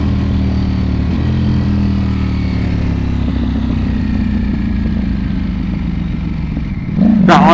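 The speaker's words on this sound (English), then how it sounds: "But those downshifts, like, look how smooth they are." Close engine roar from a 2022 Ducati V4S motorcycle, with stepped pitch changes as it downshifts with auto blip, and a sharp burst of revs near the end.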